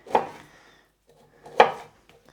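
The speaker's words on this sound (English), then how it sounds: "And then I'm just gonna chop this." A knife chopping broccoli stems on a cutting board: two separate sharp cuts about a second and a half apart, close and clear against an otherwise quiet kitchen.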